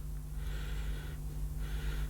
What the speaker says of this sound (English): So let's give that a sniff.